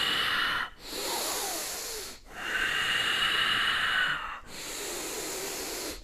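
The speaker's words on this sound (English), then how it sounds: "So 9 deep breaths." Deep, slow breaths drawn in and pushed out, filling and emptying the lungs: three long, loud, close breathy rushes of air separated by short silent pauses, with no talking.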